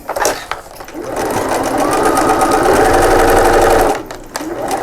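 Domestic sewing machine back stitching a dart on a fabric pouch, a steady close whirring run of about three seconds, with brief handling noises before and after.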